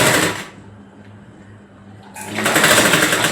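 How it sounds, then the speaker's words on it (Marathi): A sewing machine stitches a frock for a five-year-old girl, giving a loud whirring burst, then a short quiet pause, then another fast run of stitching, close up. "आता याला आपण इथं पुन्हा एकदा शिलाई मारून घेऊया."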